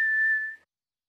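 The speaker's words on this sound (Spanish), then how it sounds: "Estoy silbando." A single short, clear whistled note from a cartoon character, bright and steady for about half a second before cutting off into silence.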